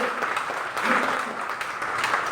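An audience applauds at a business opportunity meeting in Siliguri, giving a short, steady round of clapping at an even level throughout.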